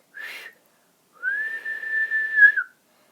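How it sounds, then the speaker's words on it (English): A steam engine's whistle in a children's Thomas the Tank Engine story: a short blast, a brief pause, then one long steady tone that wavers slightly before cutting off, loud and alone. "Whistled James in shock as he sped along the track"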